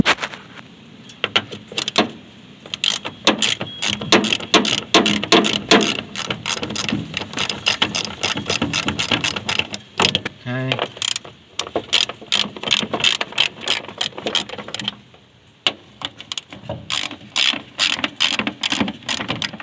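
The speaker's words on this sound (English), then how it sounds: "these bolts here on the blower motor housing is 7/16. Let me get a ratchet here." A ratchet loosens 7/16 bolts on the blower motor housing of a 1963–66 Mopar A-body, giving rapid, close clicking runs in repeated bursts with brief pauses and a few clunks between.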